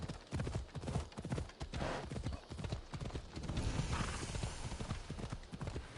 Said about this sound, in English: maybe the hill's a little bit too high for the horse